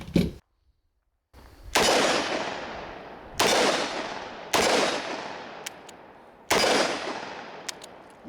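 A revolver with a smooth double-action trigger fires four loud, sharp shots in fairly quick succession, each crack followed by a decaying echo, with no talking.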